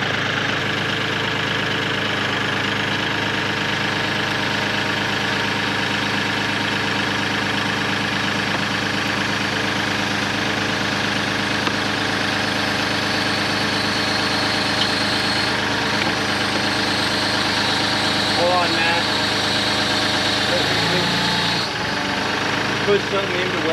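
A steady, droning tractor engine runs throughout, pulling a rock out with a rope, a low mechanical rumble that holds level with slight strain near the end.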